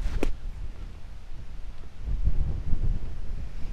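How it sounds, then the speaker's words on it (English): Gusty wind buffets the microphone on a golf course in southern Florida, a steady low rumble that swells louder in the second half, with no voices. "This is windy."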